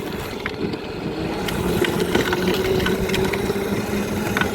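The front electric motor of a homemade 24V drift trike runs steadily nearby, a constant droning hum with a faint whine on top and a few light clicks.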